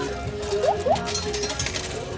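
A couple of quick metallic clinks of coins dropping in a coin pusher machine, set against a busy, noisy arcade-like background.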